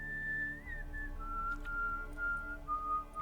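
Someone whistling in The Witcher 3: a sustained, wavering whistled tone that slides and steps between pitches for about three seconds, clear and close over a low droning game ambience.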